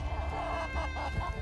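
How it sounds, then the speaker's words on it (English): Chickens cluck and a rooster calls in a vegetable garden, with several overlapping bursts of fowl sounds close by over a steady outdoor background. "A little bit of a chicken fight. That is a rooster right there."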